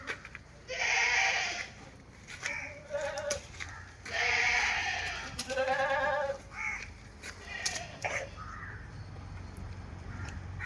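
Goats, including a large roughly one-year-old buck, bleat repeatedly at a livestock sale in Kerala, with several loud, wavering calls close by over a steady background murmur.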